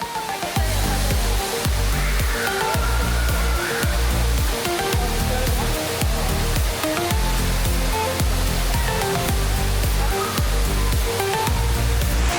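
A 35-meter indoor waterfall in Singapore's Cloud Forest pavilion roars continuously and loudly, a dense, unbroken wash of falling water with a faint voice briefly audible.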